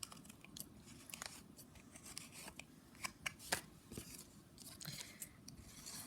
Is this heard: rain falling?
no